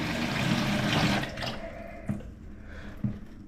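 Brown, long-stagnant water gushes from a freshly patched pipe fixture in a 125-year-old Victorian house, a steady broad rush that eases after a second, followed by a few sharp knocks and clunks.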